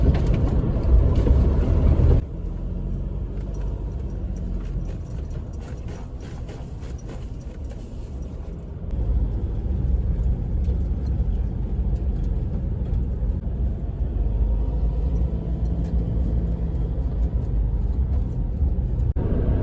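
A car drives along a country road past farmland, with steady engine and road rumble throughout and a brief louder stretch at the start. Light rattling sounds from inside the cabin.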